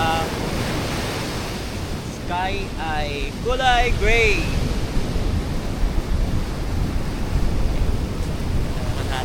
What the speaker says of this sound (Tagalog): Ay sa dagat. Napakalakas ng alon.